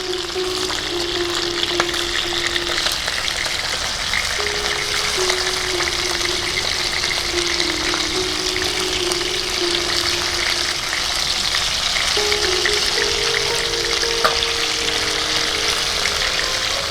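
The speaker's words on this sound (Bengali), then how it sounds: "এক পিঠ ভাজা হয়ে গেছে, মাছগুলো আরেকবার উল্টে দিচ্ছি।" Tilapia fish fry in hot oil in a pan, giving a loud, continuous sizzle that runs unbroken for the whole stretch, with a faint tonal hum underneath.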